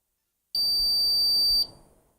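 A certified pre-owned instrument runs its audible alarm self-test, giving one steady, piercing electronic beep about a second long, close and loud, followed by faint background rustle.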